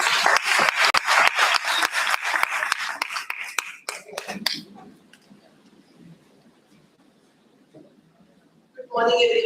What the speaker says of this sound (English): A big round of applause, ma'am.